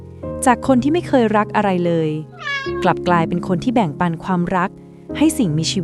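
A cat meows briefly between stretches of close narration, in an animated scene set in a once-quiet home now full of barking, meowing and laughter; a voice keeps talking before and after the short, high call.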